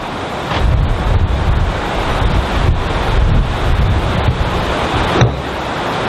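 Strong wind gusts buffet the microphone on an open golf course, a continuous loud low roar with surging swells and a brief sharp knock near the end; no voices.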